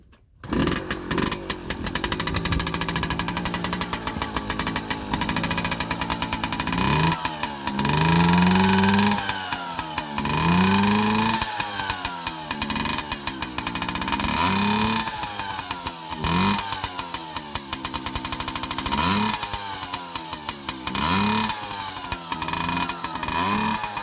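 A 1983 Yamaha PW50 motorcycle with a big bore rebuild runs loud and steady, its small two-stroke engine buzzing and revving up and down in repeated throttle blips throughout.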